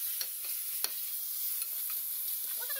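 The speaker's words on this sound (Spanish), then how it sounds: "En este poquito aceite vamos a echar las gambas. Vamos a dar una vueltecita." Shrimp sizzle gently in a little oil in a pan, a soft continuous frying hiss with a few faint clicks of stirring, close but quiet and with no talking.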